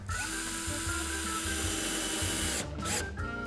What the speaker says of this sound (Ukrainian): Я зараз прикручую саморізами, але насправді це не найкраща ідея.